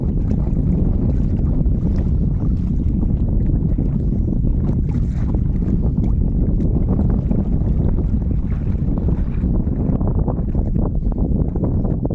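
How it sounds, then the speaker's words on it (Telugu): Strong sea wind roars continuously against a fishing boat, a dense, steady broadband rush with buffeting microphone noise and low water rumble throughout, loud and unbroken with no voices. "అవి లేని ప్రాంతం అటు సైడ్ మాత్రం గాలి ఎక్కువగానే ఉంది."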